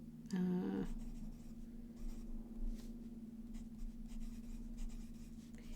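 A fountain pen with a bold nib scratches across paper, a brief burst of strokes near the start followed by quieter intermittent writing over a steady low hum.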